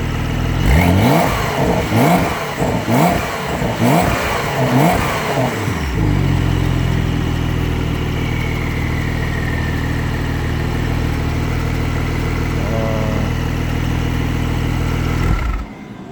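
A Porsche 911 Carrera S Cabriolet revs hard through its exhaust in repeated loud rising bursts, then settles into a steady, throaty idle that cuts off at the end.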